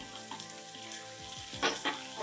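Chopped tomatoes added to vegetables frying in a pan for a veg omelette, a steady close sizzle with a couple of louder hissing surges as they hit the hot oil, no talk.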